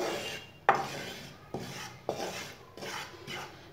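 A spoon stirs flour as it roasts in a pan, making rhythmic dry scraping strokes about every half second to second, close and clear with no talking.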